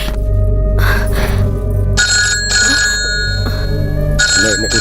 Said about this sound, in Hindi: भाई साहब का फोन आया है